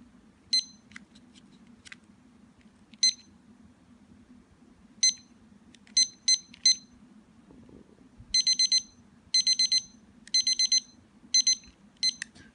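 Accuon four-channel digital timer clock sounding its T2 alarm tone: short electronic beeps, first as sparse single chirps, then as rapid bursts of four, loud and close over a low steady hum.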